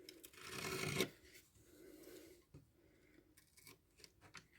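A begonia stem is cut for propagation, with a single close, faint rasping cut through the stem. Quieter handling rustles and small clicks follow.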